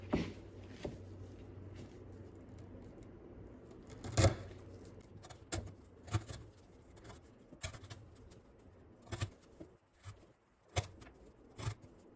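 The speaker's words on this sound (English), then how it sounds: "we're gonna cut up the 3/8 twisted sisal rope" A fixed-blade knife repeatedly slices through 3/8 twisted sisal rope, giving a string of short, sharp cutting snaps at irregular intervals over quiet background.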